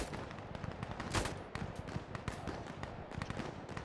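Rifle gunfire in the tactical shooter game Insurgency Sandstorm, rapid bursts of sharp cracks in quick succession with one louder blast, dense and continuous throughout.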